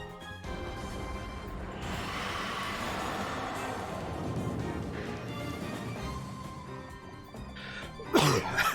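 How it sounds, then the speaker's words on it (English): A single short throat clearing bursts out near the end of a gaming stream of Kirby and the Forgotten Land, heard over steady, continuous game music. "Need to clear my throat."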